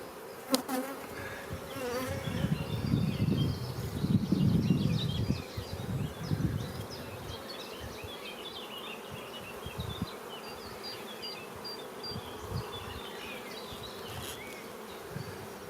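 A dense swarm of honey bees hums and buzzes up close at a hive, swelling louder early on and then settling into a steady drone.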